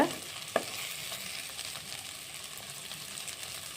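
Okra fry with salt being stirred in a pan: a continuous soft sizzle of frying with one sharp scrape of the utensil near the start, then steady low frying noise, no voices.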